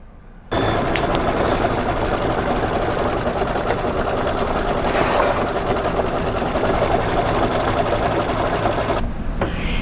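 An embroidery machine stitches a purple thread appliqué cat block on a Halloween placemat, a fast, steady mechanical whir that starts abruptly near the beginning and runs evenly and loud throughout, with no voices.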